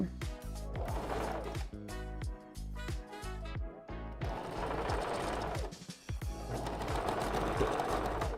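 A sewing machine back-stitches hair wefts onto a red ombre closure wig, its rapid mechanical chatter running in close bursts with brief pauses between.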